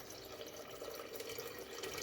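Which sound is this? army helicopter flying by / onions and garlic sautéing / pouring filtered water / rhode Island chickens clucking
pouring filtered water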